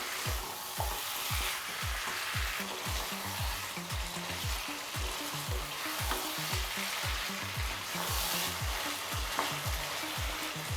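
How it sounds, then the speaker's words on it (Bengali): Chicken kosha, spicy Bengali-style desi chicken, stir-fried over high flame in a pan, a close, steady sizzle with rapid, rhythmic scraping strokes of a spatula repeating throughout, no voices. "চিকেনটা এখন আমি 15 মিনিট ধরে কষাতে থাকবো"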